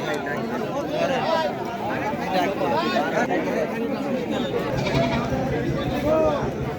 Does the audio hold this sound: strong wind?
no